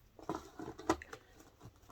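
A deck of cards is shuffled close by, quiet quick papery patters and flicks over a couple of seconds, with no talking.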